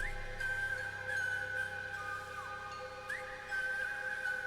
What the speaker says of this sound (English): Bringing back the whistling.